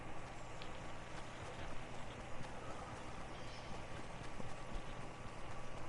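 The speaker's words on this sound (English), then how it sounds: "Oh, it rains in the storm now." Steady rain pours down during a storm in the Fortnite battle royale video game, a continuous dense hiss of drops that holds at an even level throughout.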